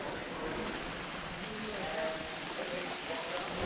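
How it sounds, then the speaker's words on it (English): Steady rain pouring down around a boat in Ha Long Bay, Vietnam, a dense continuous hiss at even level throughout, with faint voices underneath. "it started pouring with rain"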